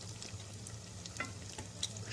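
Savory cheese-filled beignets frying in hot oil with a steady low sizzle, broken by a few soft clinks and stirs as each one is flipped over, close and fairly quiet.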